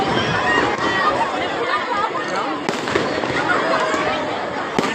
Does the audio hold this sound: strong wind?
no